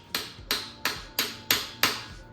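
Six evenly spaced sharp metallic strikes as a hammer drives a center carrier bearing onto a BMW driveshaft, each crack ringing briefly before the next, close and alone.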